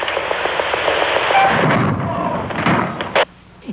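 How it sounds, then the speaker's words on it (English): A hydrogen gas gun at Lawrence Livermore fires a scramjet engine test, a loud, cannon-like blast with rumbling noise that ends in a sharp thud, followed by near silence. "It sounds like a cannon and sort of looks like one, but it's called a gas gun."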